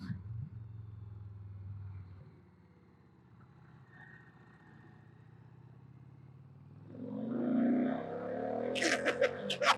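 An Indian Challenger motorcycle on the interstate cruises with a low engine drone and wind rush, then the engine note swells sharply as it accelerates hard near the end.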